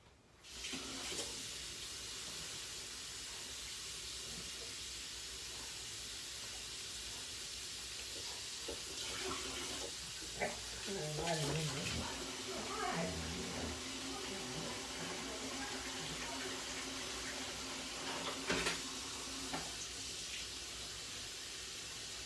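Food processor rinsed under a running kitchen tap, a steady faint hiss of water with intermittent clunks and splashes as the bowl is handled, no talk.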